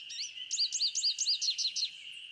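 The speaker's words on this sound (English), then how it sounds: "American goldfinch." An American goldfinch sings in the Nancy Drew game, a quick series of about eight bright, high warbling chirps in close succession, clear and fairly near over a steady high background hiss.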